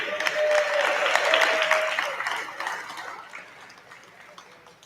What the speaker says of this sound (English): 93 kilo weight class, big round of applause,